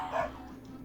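A dog barks once in Jack's Big Music Show video game, a short yelp under faint background sound.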